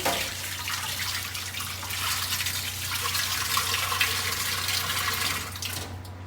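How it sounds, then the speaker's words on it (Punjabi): Steady rushing water pours out of a clay pot, splashing continuously for several seconds, close by, then cuts off abruptly at the end. "ਇਸ ਤਰ੍ਹਾਂ ਘੁਮਾ ਕੇ ਨਾ ਇਹਦਾ ਪਾਣੀ ਤੁਸੀਂ ਬਾਹਰ ਕੱਢ ਦਿਓ"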